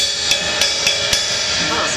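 A 19-inch Zildjian K Custom Hybrid Trash Smash cymbal is struck four times in quick, even succession at a NAMM show, each hit a bright, trashy burst ringing on loudly and close.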